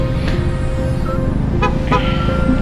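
Two short motorcycle horn honks sound in quick succession over a steady engine rumble, fairly close and moderately loud.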